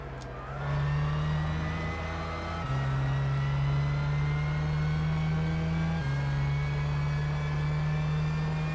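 A race car engine in Gran Turismo 6 at Silverstone drones loudly and steadily at a constant pitch, with two abrupt shifts in tone, like gear changes.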